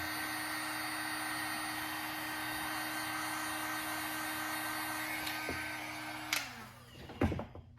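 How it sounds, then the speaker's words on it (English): A heat gun on low runs with a steady whirring blow continuously for several seconds, then winds down and stops, followed by a couple of soft clunks. "dry it again with a hairdryer type heat or heat gun on low"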